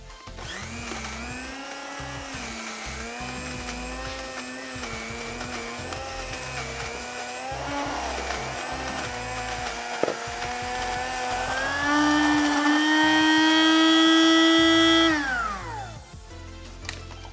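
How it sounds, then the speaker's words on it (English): A blender whirs steadily, mixing dry homemade isopod food. Its motor drones loudly and evenly, rises in pitch near the end, then winds down and stops. "And now we just need to blend that and mix that"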